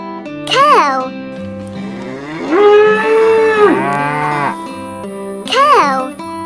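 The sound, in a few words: cow mooing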